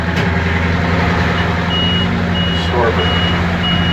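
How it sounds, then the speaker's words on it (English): A steady electronic low-oil warning beep from the starboard engine gauges of a Hatteras yacht repeats at even intervals over a loud, droning engine idle, with a brief spoken word partway through. "What's that beeping? That beeping is because out of the 3 oil gauges we have on the starboard engine"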